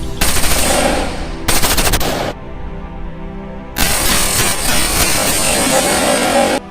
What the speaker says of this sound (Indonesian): Yes, senapan serbu SS1.